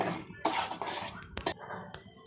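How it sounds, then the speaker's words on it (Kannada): Semolina roasting in ghee in a pan, with scattered metal scrapes and clinks of a spoon against the pan, close and fairly quiet, in irregular strokes. "ಇವಾಗ ಅರ್ಧ kg ರವೆ ತೊಗೊಂಡು ತುಪ್ಪ ಹಾಕಿ ಹುರ್ಕೋತಾ ಇದ್ದೀನಿ"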